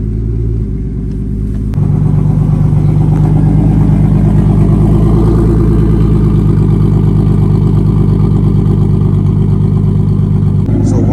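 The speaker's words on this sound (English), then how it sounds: "I gotta hit you guys with that cold start real quick" A turbocharged BMW E30 cold-starts up close. A brief whir comes first, then the engine catches into a loud, steady, rumbling idle that holds throughout, with a voice speaking over it.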